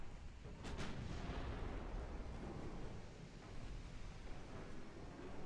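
Naval gunfire in the Ultimate Admiral Dreadnoughts battleship game, with a heavy booming artillery blast early on that rolls into a long, low rumbling decay beneath steady ambient noise.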